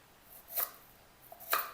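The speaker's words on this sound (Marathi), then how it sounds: "कांदे लांब लांब कापायचे असे।" Two quick, crisp knife strikes through large onions onto a cutting board, slicing them lengthwise in a home kitchen, faint and close, with quiet pauses between cuts.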